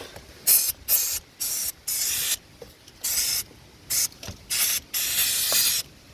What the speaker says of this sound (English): You can just apply a brake cleaner.